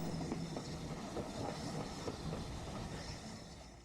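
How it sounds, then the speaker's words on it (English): A heritage railway train crossing the North York Moors National Park runs with a steady rolling rumble and faint clickety-clack and hiss, continuous and fairly distant, with no voices. "The trains take visitors on a journey across 18 miles of stunning countryside"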